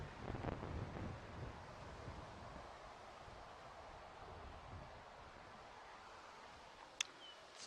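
Strong outdoor wind buffets the microphone in a continuous low rumble and hiss, fairly faint, with a brief sharp click near the end.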